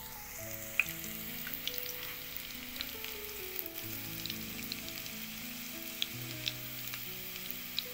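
Garlic cloves frying in hot oil for a dried bombil masala, a steady fine sizzle with scattered crackles that holds at an even level for the whole stretch, with no voices.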